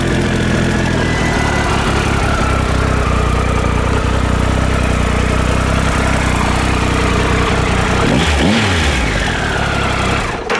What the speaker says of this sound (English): I guess I'll show you the exhaust again.